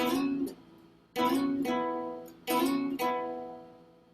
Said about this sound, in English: it means we're going to slide to this position and then slide down